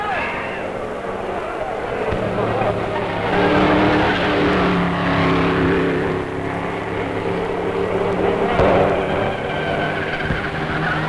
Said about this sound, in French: Pendant ce temps, les voitures continuent de tourner sur la piste